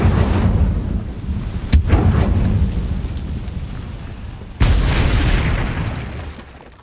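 Incendio fire spell cast in Hogwarts Legacy, a loud whooshing burst with booming rumble that swells suddenly, fades, then erupts again in a second strong blast.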